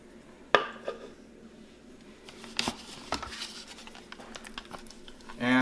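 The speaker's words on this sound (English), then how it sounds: "Scrape off everything from the blades." Basil pesto scraped off blender blades into a jar: scattered clinks, scrapes and taps of a utensil against metal and glass, with a louder knock at the start and near the end.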